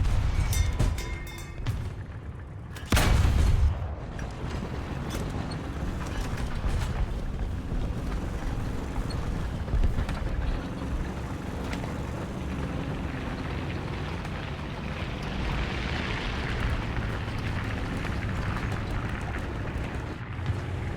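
Tank cannon fire in the War Thunder video game from a Soviet T-35 fighting over a hill: one sharp loud boom near the start over a dense, rumbling battle soundscape that continues throughout.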